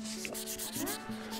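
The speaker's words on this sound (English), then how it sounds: "working with this stone and sanding this shape and holding it" Sandpaper rasps against a stone oloid in steady back-and-forth strokes, close up, over a faint low hum.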